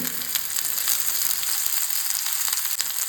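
Stuffed clams fry in oil in a pan, a loud, steady, close sizzle and crackle that runs without a break.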